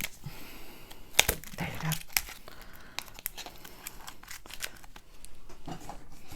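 Scissors snip through taped-together Coverminders magnets, a run of close crisp cuts mixed with crinkling tape and paper, with a brief spoken remark near the end.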